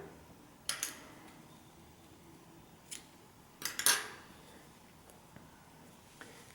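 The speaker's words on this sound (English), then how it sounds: "now you can go ahead and cut this yarn" Scissors snip through crochet yarn in a few quick, quiet cuts, with a near-silent pause between the first snip and a closer double snip.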